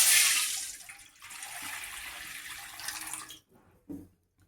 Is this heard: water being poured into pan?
yes